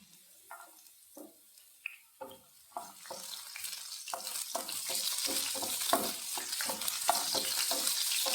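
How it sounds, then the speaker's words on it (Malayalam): About ten garlic cloves fry in a pan: a few scattered pops and scrapes at first, then a close, steady sizzle that swells and holds with occasional stirring clicks. "ആദ്യമേ വെളുത്തുള്ളി നമുക്ക് വറുത്തെടുക്കാം"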